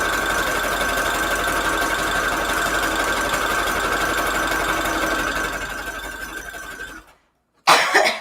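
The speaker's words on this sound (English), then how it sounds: "I'm going to sew that first." A sewing machine runs steadily, stitching the folded flap of a decoupage book-paper envelope, a continuous close whirring hum that cuts off near the end, a brief silence, then a short burst of sound.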